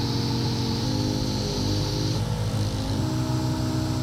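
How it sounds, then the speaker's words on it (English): An 80-grit DA sander feathers back a damaged car bumper, giving a steady, loud motor whir with a constant hum that runs without pause and no talking. "So I'm gonna take 80 grit on the DA. I'm gonna feather all this back."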